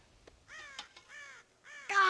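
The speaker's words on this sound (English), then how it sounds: "God damn crows!" Crows cawing in Red Dead Redemption, several harsh calls in a ragged series, near and clear, ending in a louder burst.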